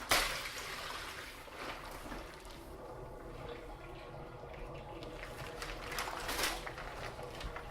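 Tap water runs steadily into a sink while cloth diapers, washed with soap nuts in a Scrubba wash bag, are rinsed by hand, with a continuous splashing rush and a few louder splashes.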